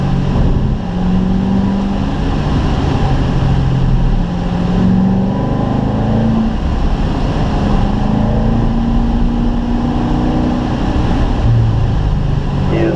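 Corvette engine revving hard around the Spring Mountain race track at a driving school, a loud continuous roar climbing in pitch through the gears with wind and road noise, no talk.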